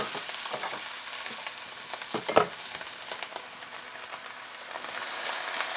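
Soaked sotanghon glass noodles stir-fry with vegetables in a hot pan, a dense steady sizzle broken by scraping and tossing sounds, with the hiss rising slightly toward the end.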